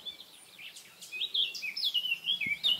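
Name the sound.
birds singing in an old garden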